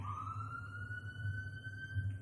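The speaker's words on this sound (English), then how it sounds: "as we watch the police car race down the street" Police car siren wailing steadily down a street, a single rising tone held throughout over a constant low traffic rumble, moderately distant with no voices.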